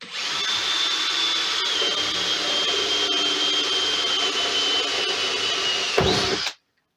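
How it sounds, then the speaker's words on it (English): A power drill with a 10 mm wood bit bores through thick plastic, giving a steady, loud whine that holds for about six seconds and then stops abruptly as the bit breaks through. "So what I've got is a drill bit, which is a wood bit, at 10 millimeters."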